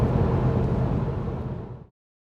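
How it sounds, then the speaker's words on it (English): Mercedes C43 AMG cruising with its exhaust valves closed in the quietest mode, giving a soft, steady engine and road hum heard from inside the car before it cuts off abruptly. "this is with the exhaust valves turned off, so this is the car in its most quiet mode."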